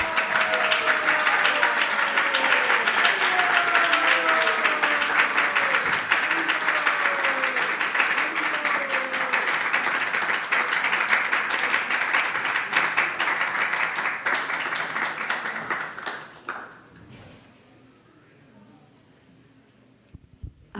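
An audience at a devotional Krishna Katha gathering claps in a long, steady round of applause with voices under it early on. The clapping thins out after about sixteen seconds and leaves near silence.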